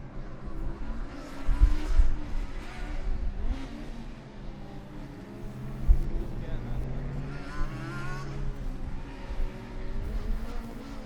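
Race cars in an endurance race roar past one after another, engine noise swelling and fading in several loud passes, with a commentator talking over them.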